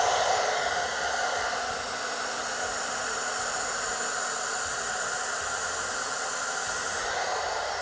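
A hair dryer on its low speed setting blows steady, close, unbroken air across wet colour-shift acrylic paint in a Dutch pour, a continuous whooshing rush that holds level throughout with no talking.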